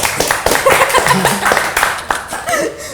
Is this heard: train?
no